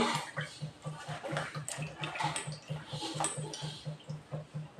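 Dried fish is washed by hand in water, making quiet, rhythmic sloshing and splashing with soft repeated pulses and occasional light clinks of a pot.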